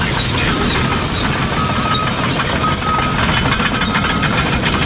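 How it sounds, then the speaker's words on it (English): A tractor hauling diesel fuel across a beach gives a loud, steady engine rumble with rattling, clanking mechanical noise that continues without a break throughout. "A tractor carrying diesel fuel."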